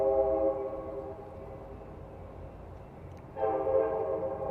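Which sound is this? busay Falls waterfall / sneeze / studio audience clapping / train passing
train passing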